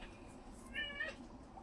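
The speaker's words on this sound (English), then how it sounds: "You may hear my cat or the next door dog" A single short meow from a cat in a quiet room, faint and somewhat distant, lasting under a second.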